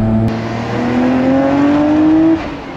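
A Nissan Skyline R34 GT-R engine revs hard in second gear and climbs steadily in pitch for a couple of seconds, loud and close, then eases off.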